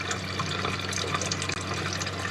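Water runs steadily from several faucets inside an RV, draining into a closed gray water tank. The flow is a continuous, fairly even hiss and gurgle with no talking.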